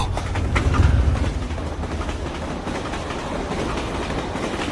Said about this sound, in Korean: 광동성으로 가는 기차예요.